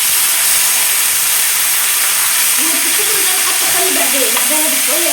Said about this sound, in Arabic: بعد ما احمرت هنحط بقى الطشة الجميلة دي على الصلصة